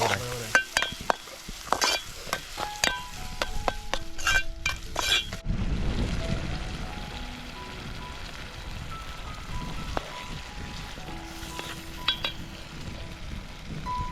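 Egg curry masala with onion and tomato cooked outdoors in a forest, opening with rapid metallic clinks and scrapes of a spoon against the pot, then settling into a steady sizzle with intermittent stirring.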